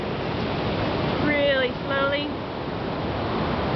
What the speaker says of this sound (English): Because the wave comes in really slowly, soaks in the water